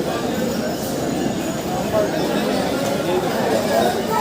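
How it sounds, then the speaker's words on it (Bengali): A Sealdah–Barddhaman local train pulls into Naihati Junction with a continuous low rumble and rattle of the carriages beneath steady crowd chatter and someone talking. "আমাদের ট্রেন এসে পৌঁছালো নৈহাটি জংশনে"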